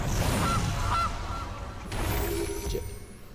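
In the MTG Arena digital card game, a Gilded Goose card lets out a few honking goose calls over a steady background of game music.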